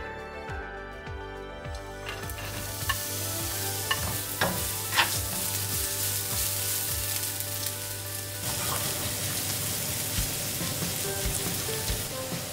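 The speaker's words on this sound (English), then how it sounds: "We're gonna start by heating up our peanut oil and browning our onions." Onions browning in hot peanut oil in a frying pan, a steady loud sizzle with repeated scraping stirs of a utensil close up, and no talking.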